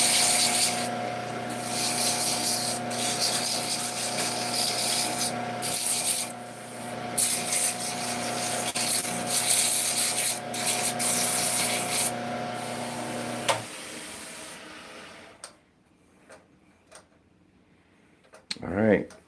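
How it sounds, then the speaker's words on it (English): A wooden string toss top sanded with 150 grit sandpaper, a steady rough rubbing hiss with tonal hum, loud and close for most of the time, then stopping into near silence with a few faint knocks. "I'm gonna sand with 150 grit, make it rough"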